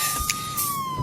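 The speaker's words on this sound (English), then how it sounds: "Police cars." A police car siren from The Amazing Spider-Man video game wails as one steady, slowly falling tone, moderately loud and continuous over a brief moment with no talk.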